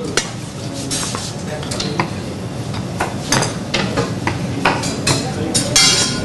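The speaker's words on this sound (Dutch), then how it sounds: "Wat ik nu doe, ik ga de fijn snijden." Knife chopping peeled pomodoro tomatoes finely on a board, seeds left in, a rapid run of close, sharp taps and thuds that keeps going steadily throughout, with faint kitchen background.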